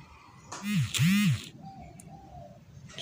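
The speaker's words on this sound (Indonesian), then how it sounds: "Banyak burung-burung di sini." Swiftlets chirp inside an abandoned house, with a few short calls heard close by in a quiet space amid faint rustling.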